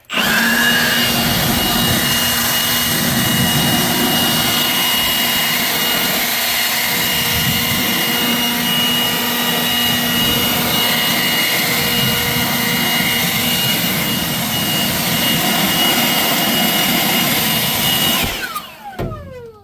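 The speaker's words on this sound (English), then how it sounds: "This is one of my favorite parts, the leaf blower." A loud, continuous roar of a leaf blower clearing wire-wheeled rusty metal on a 1977 Dodge Ramcharger runs for nearly the whole stretch, steady and close, then cuts off abruptly near the end.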